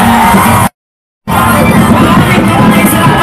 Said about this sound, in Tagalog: ating salubungin ng mainit na palakpak at sigawan